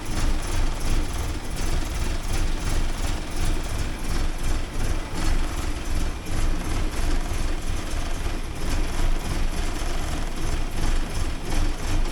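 A 1979 Porsche 924 engine idles steadily as it warms up, a continuous low rumble with a broad, even drone throughout, close and fairly loud with no pauses.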